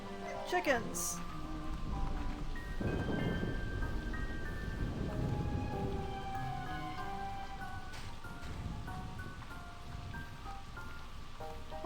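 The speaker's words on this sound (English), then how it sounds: "I hear the rumbling of thunder" Rain and rumbling thunder in the video game Slime Rancher 2, a continuous patter of rain with low thunder swelling underneath and a few brief chimes from the game.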